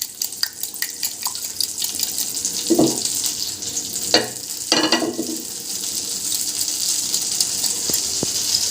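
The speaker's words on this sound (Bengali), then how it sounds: "অমলেটটা একটা পিঠ একটু ভাজা হবে," Beaten egg omelette frying in melted butter in a pan, a continuous close sizzle broken by a few louder scraping and stirring knocks near the start and middle.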